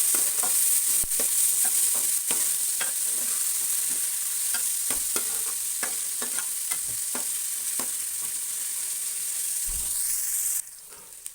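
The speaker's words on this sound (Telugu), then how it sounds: "ఇవి ఇలా ఫ్రై అవుతున్నాయి." Two small, thinly sliced onions fry in a pan with a steady, close sizzle and repeated stirring scrapes. The sound runs almost unbroken and cuts off abruptly near the end.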